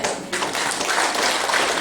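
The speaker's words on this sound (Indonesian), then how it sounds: "Mau tepuk tangan buat Tuhan" A sermon congregation claps together in praise of God, producing a loud, dense burst of applause that starts sharply and holds steady for a couple of seconds.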